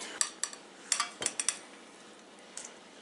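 Spoon clinks and scrapes against a bowl as thickened strained yogurt is scooped out for tzatziki, a handful of sharp close taps in a short burst, then a pause and two more light knocks, quiet room, no talking.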